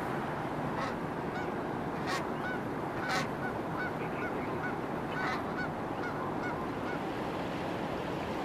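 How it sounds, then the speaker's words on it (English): Ducks and geese wintering on the open water of the Bow River honk and call repeatedly, a dense flock chorus over a constant rushing background of moving water, heard from a moderate distance. "There's several thousand ducks and geese that spend the winter here, taking advantage of the open water on the Bow."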